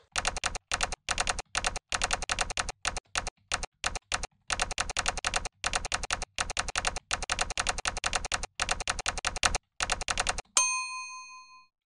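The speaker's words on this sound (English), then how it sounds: "Let's just click on the desktop and just start typing." Typing on a Linux computer's keyboard is played back as clacking typewriter key strikes through a Python typewriter sound effect, coming in quick bursts with short pauses. A bright bell ding rings at the end.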